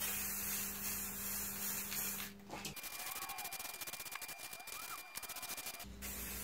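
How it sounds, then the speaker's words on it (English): Aerosol plastic primer spraying onto a plastic headlight reflector bowl in a continuous hiss of about three seconds, bracketed by quieter background noise before and after. "So now I'm going to apply some plastic primer to the visible surface"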